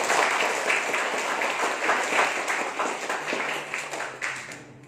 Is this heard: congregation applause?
yes